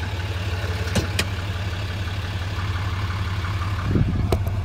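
The diesel engine of a 2008 Dodge Ram 3500 mechanics service truck with a crane idles with a steady low rumble, close by, with a couple of short clicks and a slight rise in engine noise near the end.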